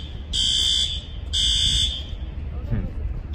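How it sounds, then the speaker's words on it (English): A System Sensor L Series fire alarm in a building sounds two loud, steady horn blasts of about half a second each, then falls quiet, leaving a background hum and faint movement. "I guess that's also the forgotten alarm because it didn't seem to be upgraded"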